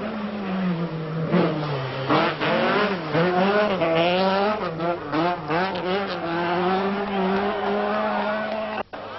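A rally car at speed on a stage of the 1983 Rothmans Circuit of Ireland Rally, its engine revving hard and rising and falling in pitch through gear changes. It is loud and near, with faint commentary beneath.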